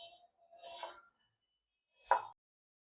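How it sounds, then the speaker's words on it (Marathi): A knife slices onions lengthwise on a board, with two short, soft scraping cuts separated by a pause, close by and quiet, with no talking. "कांदे पण आपल्याला उभेच चिरून घ्यायचे."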